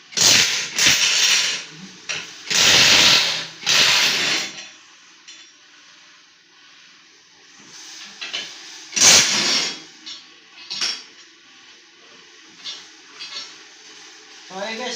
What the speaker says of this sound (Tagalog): tanggalin natin itong tatlong tornilyo. 12mm. Gamit lang natin sa impact wrench.